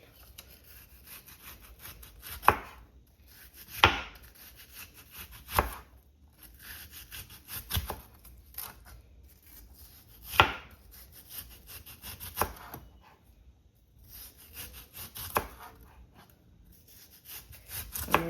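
A purple onion being chopped with a knife on a cutting board for a Jamaican macaroni salad. Close, crisp knife strikes land at an uneven pace, with a few sharper, louder chops standing out and no talking.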